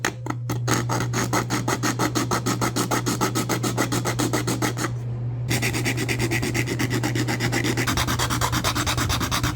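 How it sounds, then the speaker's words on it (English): Cheap hand files rasping rhythmically against a piece of retro game hardware, close and steady with brief pauses, over a constant low hum. "the only thing I have handy right now are these really cheap AliExpress files"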